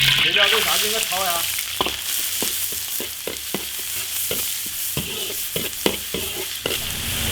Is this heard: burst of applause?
no